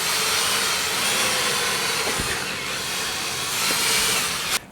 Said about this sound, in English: So we've now finished the buffing and given the lens a clean over